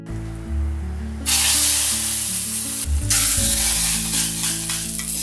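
Garlic and hot chili flakes hit hot oil, and a sharp, loud sizzle bursts up and then holds steady close by, with a brief clatter partway through.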